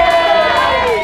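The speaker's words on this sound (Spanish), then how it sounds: "¡Aplauso a vuestro amigo, no! ¡Aplauso!" A street crowd cheers and whoops during an outdoor challenge to break an indestructible box, a brief burst of many loud voices at close range.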